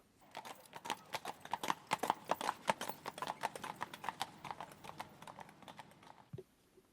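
Horse hooves clip-clop in an Estonian radio play, a steady run of sharp, close hoof strikes at a walking-to-trotting pace, loud and alone, ending with a single dull thud.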